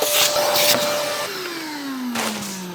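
A vacuum cleaner sucks up droppings with a loud, close, continuous roar. Its motor pitch dips and shifts as the nozzle is moved, and short gusts of suction come through.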